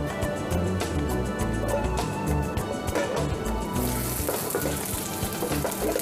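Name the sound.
duck searing in hot oiled pan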